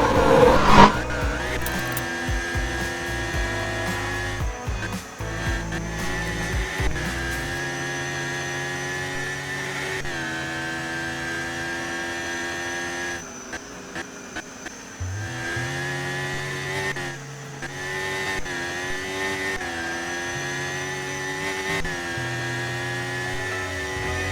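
A race car engine in a Roblox F1 game launches off the line, then holds a continuous buzzing whine that steps up and down in pitch through several gear changes, loud and alone.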